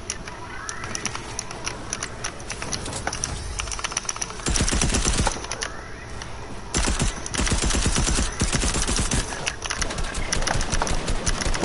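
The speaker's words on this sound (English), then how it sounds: "I'm missing all my shots" Loud, rapid gunfire from Fortnite comes in long bursts and clusters against a busy game background, close and dense with short gaps between volleys.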